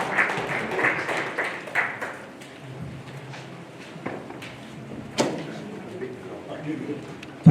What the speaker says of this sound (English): let's give a big clap to the speakers